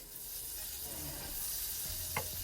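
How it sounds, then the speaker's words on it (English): Three tablespoons of butter melting in a pan while making chili give off a steady, close sizzle that runs throughout, with a faint scrape or tap near the end. "Now I'm going to add 3 tablespoons of butter. We're going to let that melt"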